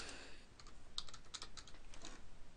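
A computer keyboard being typed on, entering an IPv4 address for a Bukkit Minecraft server: a brief run of soft, close keystrokes, irregular in rhythm, over a faint background hiss.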